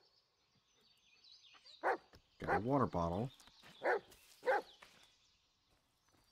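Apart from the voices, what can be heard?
dog barking in a video game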